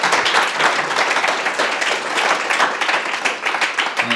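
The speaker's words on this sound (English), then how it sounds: "round of applause again" An audience at a tech conference panel gives a loud, continuous round of applause, many hands clapping densely and evenly throughout at close range, with no speech over it.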